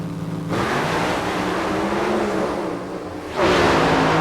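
Alcohol-fuelled drag racing cars roar off the line and down the quarter mile at the 1995 NHRA Winston Select Sportsman Finals in Pomona. The loud, sustained engine blast shifts in pitch, then surges again near the end.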